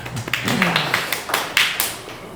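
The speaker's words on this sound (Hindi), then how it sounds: "एक बार ताली बजा दो यार" A few people clap in a podcast studio, a short burst of scattered, uneven claps at close range over a noisy background.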